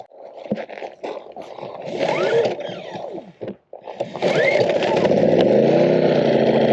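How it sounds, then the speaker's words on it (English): A Wen 56235i portable inverter generator is pull-started with the choke open: the cord rasps through a few pulls before the engine catches and settles into a steady, loud running drone close by, with a voice talking over it. "Now we're going to go ahead and do the pull cord here."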